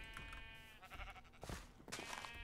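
Sheep in the Minecraft video game bleat in several short, wavering calls, with clicking game sounds between them and a steady background hum.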